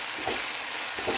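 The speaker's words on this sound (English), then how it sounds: "Then saute the garlic and onion. Just continue on cooking until the aroma from garlic and onion comes out." Garlic and onion sauté in a hot pan for pansit bihon guisado noodles, giving a steady, close sizzle with faint stirring scrapes and no talk.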